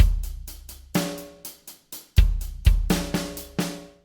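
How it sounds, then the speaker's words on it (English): A rock drum kit plays a tight groove with eighth-note hi-hats, punchy kick and snare hits spaced between quick closed cymbal ticks, dry and up front with nothing else. "the drums are playing eighth note hi-hats"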